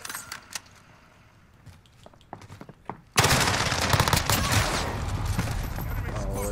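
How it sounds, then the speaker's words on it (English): Gunfire in a video game erupts suddenly after quieter scattered shots, a dense, loud, continuous barrage of shotgun blasts that fills the last half of the clip. "It's all shotguns."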